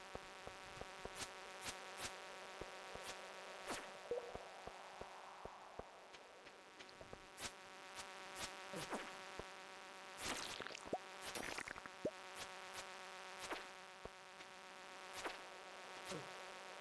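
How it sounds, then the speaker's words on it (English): Small insects buzz and whine as they fly around a summertime farm in the video game Stardew Valley. The sound is faint and steady, with scattered soft clicks over a quiet tonal background. "Quite a lot of these bugs flying around here."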